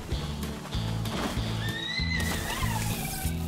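A horse neighs and whinnies in the Palworld video game, a rising, wavering call over steady rhythmic hoofbeats, close and loud, with no talking.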